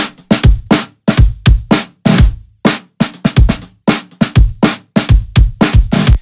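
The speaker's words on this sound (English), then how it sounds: "kick and snare sound something like" Kick and snare drums play a steady groove alone, punchy low thumps alternating with crisp, slightly saturated snare hits in a warm lofi mix.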